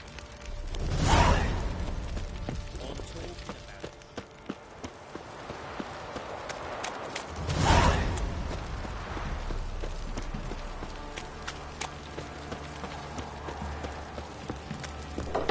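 Horse hooves clip-clop steadily in The Witcher 3, with two louder swells of passing movement over continuous trotting.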